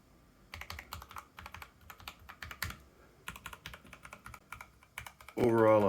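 Someone types on a finished, modded Keychron K8 TKL mechanical keyboard, making bursts of crisp, close clacks in an irregular rhythm. A louder, tonal sound cuts in at the very end.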